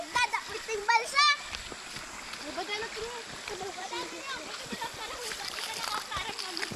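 Water splashes as a raft crosses a river on a muddy road cut off near Cambalidio, Camarin. Bursts of sloshing run under near, lively talk, including a voice.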